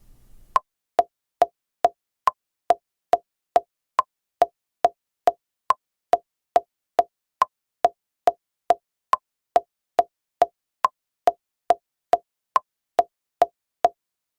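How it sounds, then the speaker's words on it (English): Metronome in LMMS music software ticking steadily at 140 BPM, a crisp regular series of clicks with a higher-pitched accent tick on each bar's first beat, clean and alone. "I'll use the metronome to let you hear the beat at 140 BPM."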